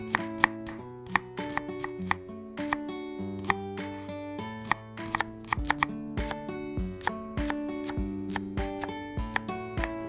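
A knife chops through frozen crab in a kitchen, making a run of sharp, close, evenly spaced cuts over a steady musical backing.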